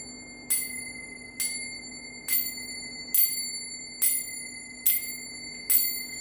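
Finger cymbals (zills) struck softly in the ring technique, seven bright metallic rings at an even, unhurried pace, each sustaining with a shimmering decay, heard alone in a quiet room.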